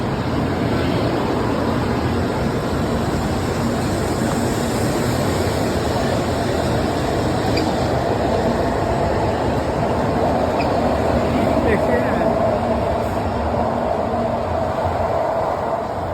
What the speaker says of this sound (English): We are going to wait until our Shinkansen arrives.